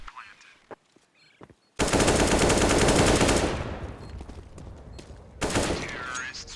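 Gunfire in Counter-Strike on the Inferno map during a professional esports match, with faint scattered clicks, then a loud sustained automatic burst and a second burst later, with a commentator talking under the noise.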